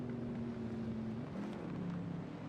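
Car engine in Assetto Corsa on the Nordschleife drones steadily, pitch climbing and then dropping as it shifts, faint and continuous with no talk.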